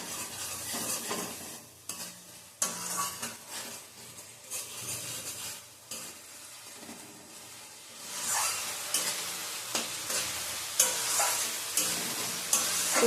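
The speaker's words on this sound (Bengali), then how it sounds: "ভালো করে কষিয়ে নেব।" Spices and curry are sautéed and stirred in a pan while they sizzle, with a repeated scraping of the spoon over a steady frying hiss that grows louder and busier toward the end.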